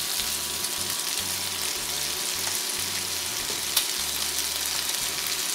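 Chicken frying in a pan with spices and onion, a steady close sizzle running throughout with faint stirring clatter and a low background hum, no voices.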